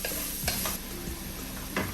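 Onions with a pinch of salt sautéing in a hot pan, a dense steady sizzle with several quick scraping stirs, close and loud throughout.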